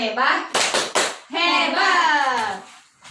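A group of women in an online training session clap a rhythmic cheer together on a count, several short bursts of hand claps mixed with a leader's voice, followed by continued speech.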